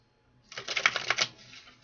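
A deck of cards is shuffled once, a quick riffle of dense rapid fluttering clicks lasting under a second after a brief quiet pause, close and fairly crisp.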